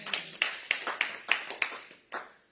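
A church congregation claps hands in a sharp, fairly regular rhythm, about eight distinct claps over a couple of seconds with a short pause before the last ones, somewhat distant and reverberant.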